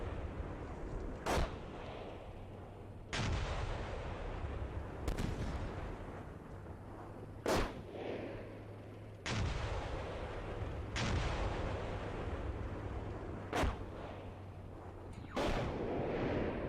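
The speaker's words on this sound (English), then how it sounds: "I think this fire mission is scripted because it's firing a line mission right now." Artillery barrage fire mission in the tank simulator Steel Beasts Pro PE, set at Neustadt am Rübenberge in 1989: about eight sharp booming shots at irregular intervals over a continuous low rumble, with no talk.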